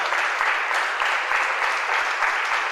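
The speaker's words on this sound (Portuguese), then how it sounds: "aplauda ao Senhor" A church congregation applauds during a Portuguese-language sermon, with dense, steady clapping from many hands sustained throughout, fairly close and loud, and no clear talking over it.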